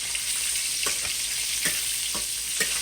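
Chicken tenders frying in oil in a pan, a bright continuous close sizzle with scattered crackles and a few soft utensil taps, no talking.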